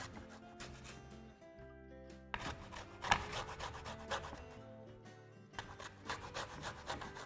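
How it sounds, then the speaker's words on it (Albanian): A knife saws through raw salmon on a board, cutting it into cubes with repeated close rasping strokes. Steady sustained tones run underneath. "E pres në kubik prapë."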